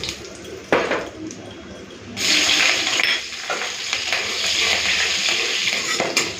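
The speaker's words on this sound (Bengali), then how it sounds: "এরপরে তেলের মধ্যে দিচ্ছি কালো জিরে ফোড়ন দেবো চেরা কাঁচা লঙ্কা" Black cumin and slit green chili hit hot oil after fish frying, bursting into a loud sizzle after a quiet start and a utensil clink, then crackling steadily to the end.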